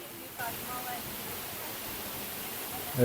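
Constant broadband roar of the Zhenetskyi Huk waterfall in the Carpathian foothills, loud and close, filling the whole clip, with faint voices and brief tonal bursts under it.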